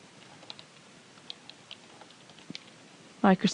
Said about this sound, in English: just go back to your browser and type in Microsoft